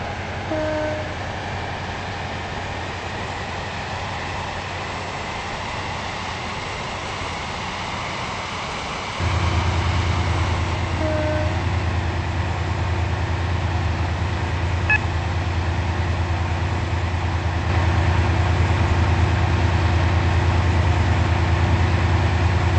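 Class 68 diesel train running in the Roblox game Stepford County Railway on a Stepford Connect service, a steady low engine rumble that deepens and grows louder partway through, with faint beeps and tones above it and no talk.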